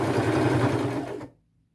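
A sewing machine stitching through a denim jean jacket runs as a steady, close mechanical whir, then winds down and stops near the end.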